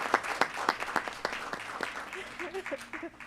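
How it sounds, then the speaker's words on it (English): Audience applause at a transit authority board committee meeting, a sustained patter of many hands clapping at moderate distance, with a few voices rising over it near the end. "Can we all just give this team a round of applause for all of their wonderful work?"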